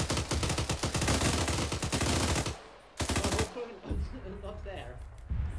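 Rapid automatic gunfire in ArmA 3, loud dense bursts of rounds for several seconds, then a short pause and another burst, with a few scattered shots and a voice talking over the later part.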